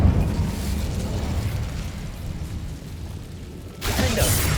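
An Incendio fire spell cast in the video game Hogwarts Legacy, a rumbling, roaring burst of flame that sustains low and dense, then flares again with a brighter crackling whoosh near the end.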